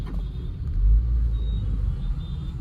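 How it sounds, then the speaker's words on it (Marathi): Road traffic on a busy, congested Monday route near Nashik, heard from inside a vehicle as a steady low engine and road rumble with a brief louder swell, no voices. "आपल्याला ट्रॅफिक लागलेली आहे आज, खूपच गर्दी आहे."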